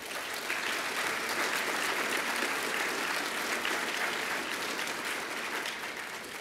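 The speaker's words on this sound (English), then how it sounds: "I want to hear a very good round of applause for our two gallant geologists" A conference audience gives a sustained round of applause for two geologists, with a steady, fairly distant wash of clapping that holds evenly throughout.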